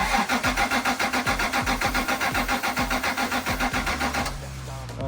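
A Toyota Prado with a suspected fuel pump problem cranks in a steady, rapid rhythm of starter turns for about four seconds. The engine catches a few firings but does not run. Loud and close.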